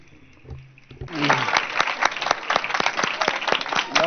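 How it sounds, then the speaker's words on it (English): An audience at an interview event with a character designer breaks into applause after a brief voice, dense clapping rising suddenly and continuing steadily at moderate loudness. "A big round of applause for him, please."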